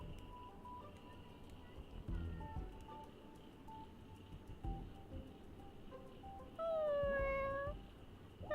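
A dessert cat character meowing in Honkai: Star Rail, a clear drawn-out meow rising late in the clip over quiet game ambience and soft chimes.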